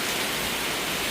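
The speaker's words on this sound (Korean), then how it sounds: "그러더니 비가 엄청나게 쏟아지네" A heavy rain shower pouring down at the end of the rainy season in Laos: a dense, even roar of rainfall with no break, loud and close.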